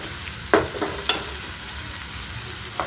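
Tomato and onion, salted, frying slowly in a pan, a soft steady sizzle with a few sharp stirring scrapes, close and alone.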